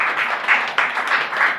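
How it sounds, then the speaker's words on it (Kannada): A live audience claps in a spiritual lecture hall, steady broadband applause running throughout with small swells, loud and close, no voices over it. "ಒಂದ್ಸಲಿ ಜೋರಾಗಿ ಚಪ್ಪಾಳೆ ಹಾಕಿ."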